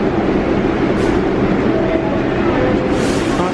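A New York City subway train rumbles through a hot underground station, a loud steady roar of wheels and cars with faint squeals and clatter, close and continuous.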